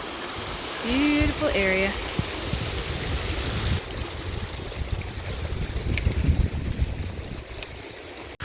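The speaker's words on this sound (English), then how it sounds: "These are beautiful little creeks." A small creek flows along the John Muir Trail in a steady broadband rush. A brief spoken remark comes early, and wind buffets the microphone.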